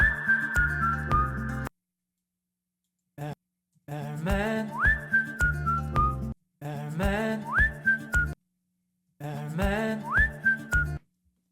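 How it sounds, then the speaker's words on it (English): A whistled melody in a song being made in Logic Pro plays in repeated phrases with rising slides, backed by a beat, separated by short silent gaps. "I don't want it to be too harsh, this whistle."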